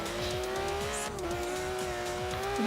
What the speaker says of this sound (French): Beau virage, dérapage, récupération